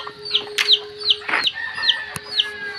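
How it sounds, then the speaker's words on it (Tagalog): Farm chickens waiting at feeding time in the late afternoon, clucking in a steady run of short calls, close and clear, with a brief scuffle and a sharp knock in between. "Nag-aabang na rin ang mga manok."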